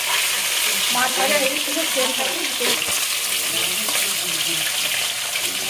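Snakehead fish frying in hot oil in a home kitchen, with a loud, close sizzle and spattering crackles, while a voice speaks briefly over the cooking.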